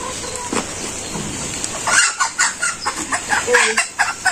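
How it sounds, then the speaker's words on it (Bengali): Village chickens cluck and squawk in agitated bursts while being caught by hand, loud and close, with a rapid run of short calls and scuffling toward the end. "দুইটা মুরগি ধরছি"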